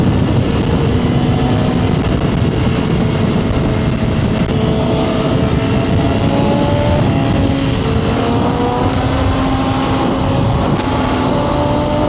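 Kawasaki ZX10 motorcycle engine while riding, loud and steady, with the pitch climbing and falling through several gear changes.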